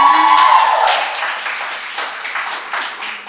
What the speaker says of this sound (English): Well done. Yep, round of applause.